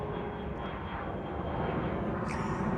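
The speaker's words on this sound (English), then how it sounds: "you rarely see a plane take off that direction." A steady, loud aircraft engine roar fills the whole stretch as an airplane takes off, a broad continuous rumble with no breaks and no speech over it.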